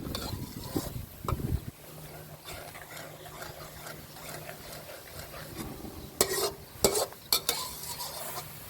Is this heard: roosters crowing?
no